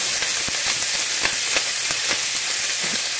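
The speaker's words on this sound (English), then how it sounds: "We're going to get that sizzling." Close, loud sizzling and hissing of chopped bacon frying in a pan, with occasional sharp pops and crackles over a constant bright hiss.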